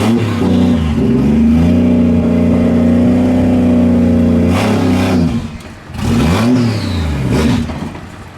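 A 1JZ-powered Nissan S13 drift car revs steadily as it creeps up a ramp, a loud, close engine drone that holds, dips briefly, then rises again.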